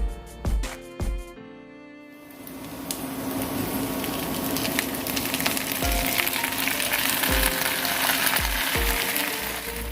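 Tomato with garlic dropped into a pan of softened onion frying in oil, a few clanks of the utensil first, then a loud, steady sizzle with occasional stirring scrapes.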